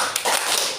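A group of participants in a positive-discipline training session claps in a counted clapping exercise, a couple of quick, sharp claps that blur together in under a second.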